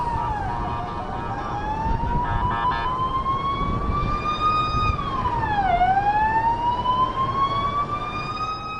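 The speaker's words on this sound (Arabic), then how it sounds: "هذه سيارات الإسعاف هنا مرة أخرى تنطلق" Wailing ambulance sirens rise and fall over heavy traffic rumble in Tel Aviv during an Iranian ballistic missile strike, one sweeping tone dipping sharply midway before climbing again, loud and fairly close.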